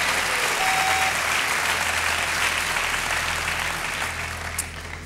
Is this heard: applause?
yes